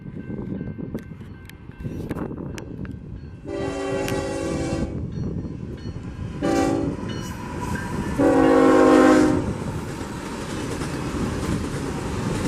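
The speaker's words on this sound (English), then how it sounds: "But we got a big train coming." Heavy rumble of a grain freight train rolling past close by in Eureka, Washington, with several loud horn blasts, two short ones then a longer, louder one, over continuous rail clatter.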